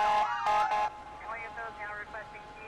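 An ambulance siren wails through traffic in LA County, its rising and falling tone sweeping at moderate distance after a few brief voices near the start.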